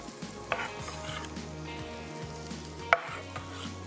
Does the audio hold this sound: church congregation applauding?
no